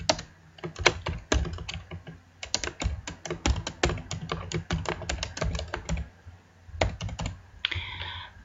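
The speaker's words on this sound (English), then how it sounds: "all you have to do is type in the information." Someone types information into a web page on a computer keyboard, producing close, crisp key clicks in quick bursts with short pauses between them and no talking.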